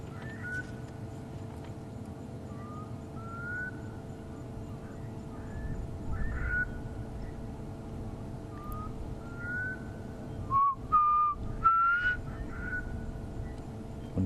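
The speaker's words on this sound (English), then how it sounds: "just listen to this bird calling." A wild bird calling at sunset on an African safari bushwalk, short whistled notes repeated at irregular intervals, moderately distant over a quiet background hum, with a few louder knocks near the end.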